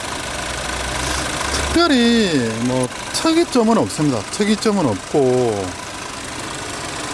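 A Chevrolet Alpheon's 2.4-litre Ecotec direct-injection four-cylinder engine idles steadily in the background while someone talks over it at close range.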